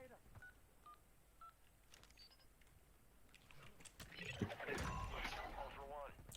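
Telephone keypad tones beep in a few spaced presses in Warzone 2.0 DMZ, faint under game noise, while squadmates talk over the action.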